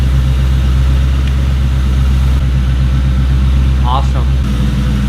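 A 2004 Ford Mustang GT engine idles steadily with a low, even rumble throughout, close and loud, with a faint squeak partway through.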